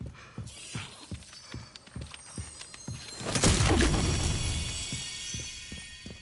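An object smashed in the Resident Evil Requiem video game: a steady ticking mechanical pulse runs throughout, then a loud shattering crash erupts midway and trails off into a sustained rumble, with no voices.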